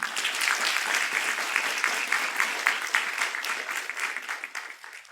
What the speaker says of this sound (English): Let's give a wide round of applause for all the initiatives undertaken by the CSA.